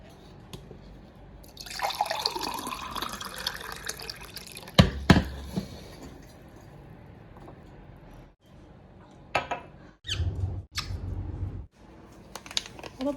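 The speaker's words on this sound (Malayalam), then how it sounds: "വെള്ളം സ്പ്രേ ചെയ്ത് കൊടുത്ത്" Water sprayed onto garden plants gives a hissing, splashing burst that fades out, followed by a few sharp knocks and brief drips or splashes, close by with no talking.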